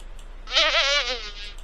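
A single short, warbling buzz of a cartoon bee in a Dora the Explorer memory game, rising quickly, wavering for about half a second, then fading out.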